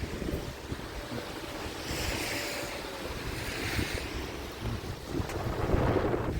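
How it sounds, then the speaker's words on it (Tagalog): Strong spring wind blowing outdoors near a police station entrance in Canada, a steady roaring rush with gusts swelling and easing, buffeting the microphone, no voices. "Lakas ang hangin"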